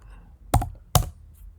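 Two crisp, close keystrokes on a computer keyboard while entering a git command, spaced about half a second apart over a quiet background.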